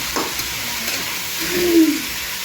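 Potato bhaji stir-frying in a home kitchen pan gives a soft, steady sizzle and hiss with a few faint scrapes, fairly close, with no talking.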